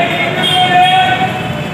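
A Delhi Metro Yellow Line train at Samaypur Badli station rumbles loud and close with a steady mechanical drone and a faint high whine, sounding like a metro carriage in motion.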